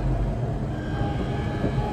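Steady low rumble of a nearly empty London Underground train running between stations, a continuous interior drone heard alone without talk.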